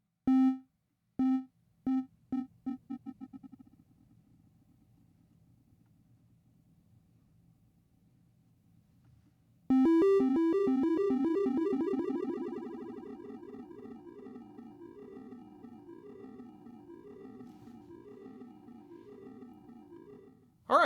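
AIR Delay Pro digital delay: a few short tonal plucks echo in a decaying train of repeats, then a sustained burst follows whose repeats smear and shift in pitch as the delay time changes, before fading out.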